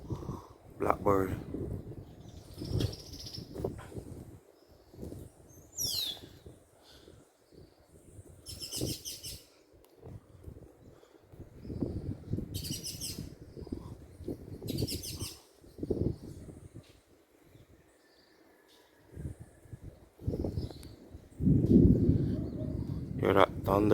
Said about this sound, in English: Blackbird.